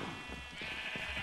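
Sheep bleat in a Minecraft farm pen, several short wavering calls spaced through the moment over a steady background tone, moderately close.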